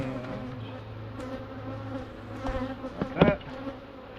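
Honey bees buzz steadily at close range while a hive is opened for inspection, a low droning hum with a louder burst near the end.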